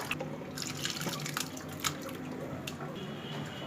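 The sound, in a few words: curdled milk poured through strainer for homemade paneer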